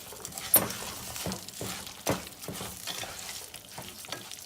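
A wooden spoon stirring Spanish rice as it fries in a pan: a close, hissing sizzle broken by several distinct scraping strokes and soft knocks against the pan.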